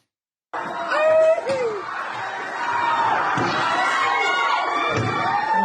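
A crowd shouts and yells at night during a riot in Tahiti, with loud, continuous overlapping cries and whoops rising sharply after a moment of silence and staying close and dense throughout.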